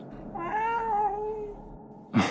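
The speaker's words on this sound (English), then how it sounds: "Is that a cat?" A cat gives one drawn-out, wavering meow that rises and falls over about a second, heard close and clear, followed by a brief dull thump.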